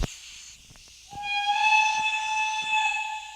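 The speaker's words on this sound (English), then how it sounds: "Beautiful whistle." A steam engine whistle in a video game sounds a long, bright, sustained multi-tone blast after a brief hiss and a few soft knocks, holding steady and fairly loud to the end.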